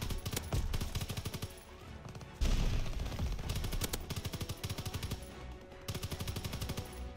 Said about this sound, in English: I'm getting shot up right now, man.